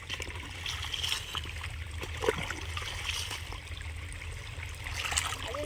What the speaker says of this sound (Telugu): నేను నీళ్ళు కడుతున్నా